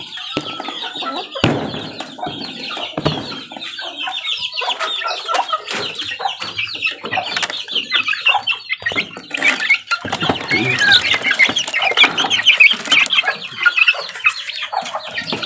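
Chickens cluck and chatter almost nonstop at close range, a busy mix of clucks and peeps that grows louder and denser toward the end.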